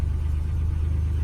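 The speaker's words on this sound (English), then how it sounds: "The lifters tap a little bit on it." A car engine idles steadily up close, a deep continuous rumble with lifters tapping faintly, parked a long while and overdue for an oil change.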